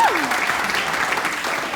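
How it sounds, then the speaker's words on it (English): Wedding guests giving a brief round of applause during a best man speech, a dense, even patter of clapping from a crowd filling the whole moment at moderate loudness. "So a little golf clap for that."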